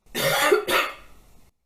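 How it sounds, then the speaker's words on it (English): Two harsh coughs in quick succession, close and loud, the second shorter, then a faint breathy tail fading into quiet. "I have a cough."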